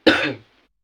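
One short, sharp cough, loud and close, that dies away within half a second and leaves silence.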